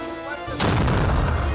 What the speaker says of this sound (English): they are responsible to fire the cannon